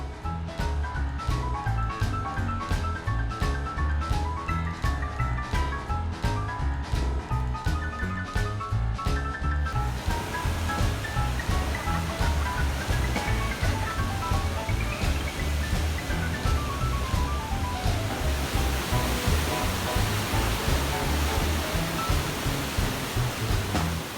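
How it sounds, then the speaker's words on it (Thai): Huka Falls in New Zealand pours a steady, loud roar of rushing water that fills the whole stretch without letup, with no voices over it. "ไปชมน้ำตกสีฟ้าที่สวยงาม"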